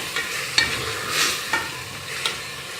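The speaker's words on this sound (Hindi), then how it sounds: "अब हमने इसको अच्छी तरह भूनना है।" Spiced khichdi with red chilli powder, garam masala and salt sizzles in a pan while a spoon scrapes and stirs it in a few distinct strokes, close and moderately loud.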